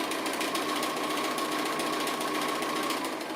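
A sewing machine stitches appliqué around a design at a fast, even, continuous rate. The needle makes a close, loud mechanical whirr that stays steady throughout, with no talking.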